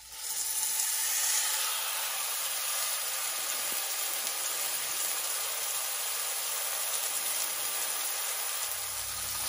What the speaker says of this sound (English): Now, wait for that sizzle.